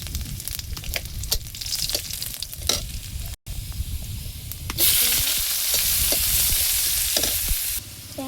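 Whole dried chillies, nigella seeds, cumin and onion fry in mustard oil for tempering, giving a close steady sizzle with scraping stirs, then a louder, hissier burst of frying as more goes into the pan.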